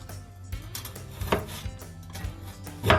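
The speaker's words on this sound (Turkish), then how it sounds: "Bu şekilde ince ince kıyıyoruz." Knife finely chopping frozen döner meat on a board for a homemade Hatay dürüm, a steady run of sharp close taps with a harder thud near the end.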